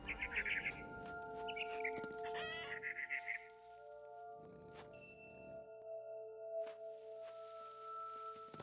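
A barn swallow chirping by its nest in the video game What Remains of Edith Finch, quick bursts of high twittering calls early on, then sparser faint chirps over a steady tonal music drone.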